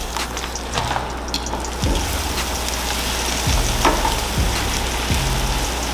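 Cabbage cooking down in a pot with only a little water, a steady bubbling sizzle with occasional utensil scrapes and clinks against the pot, close and continuous.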